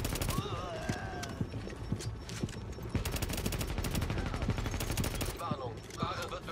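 Rapid automatic gunfire rattles nonstop in The Division, dense bursts of shots layered over one another at close range, with voices talking underneath.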